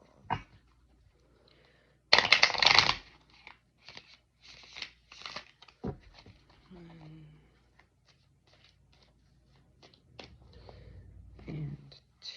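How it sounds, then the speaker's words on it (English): A deck of tarot cards is shuffled in quick, crisp bursts, loudest in one strong riffle near the start and then softer intermittent flicks, with a voice speaking briefly in between. "2 more shuffles."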